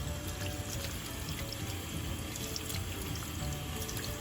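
Tap water runs steadily into a kitchen sink while raw pork chops are rubbed and rinsed under it, a continuous close splashing stream with no talk.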